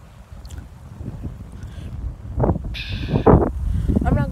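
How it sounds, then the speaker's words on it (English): Gusty wind buffets the microphone outdoors, a low rumbling roar that builds and swells in bursts, with brief snatches of movement noise mixed in. "this wind is hella coming"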